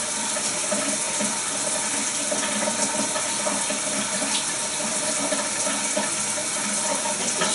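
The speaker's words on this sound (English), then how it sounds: "The shower is quite crazy." A shower runs steadily, a continuous broadband hiss of falling water that stays even and fairly loud throughout, with no voices over it.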